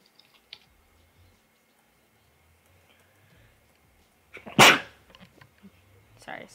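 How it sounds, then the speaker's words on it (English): A single sharp, loud sneeze bursting out of a quiet room with faint keyboard clicks around it, followed by a few soft noises. "Sorry, I sneezed."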